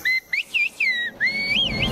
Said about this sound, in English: In Turkey, there is a village where people don't talk, they whistle.